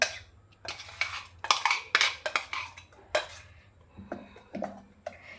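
A spoon scrapes coconut chutney from a steel mixer jar, with bursts of metallic scraping and clinking separated by short pauses, close and fairly loud.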